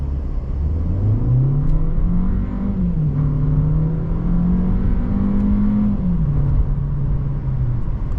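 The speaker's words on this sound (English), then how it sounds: "We're gonna do a quick 0 to 60 when everybody gets off." A 2025 Volkswagen Jetta accelerates from a standstill toward 60 mph, engine note rising steadily through long gear pulls with a brief dip at a shift, heard from inside the car as a constant loud hum.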